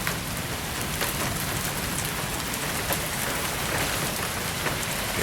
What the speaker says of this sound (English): Alright, now we got the rain.